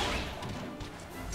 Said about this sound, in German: Dann benutzen wir mal einen Bauchklatscher.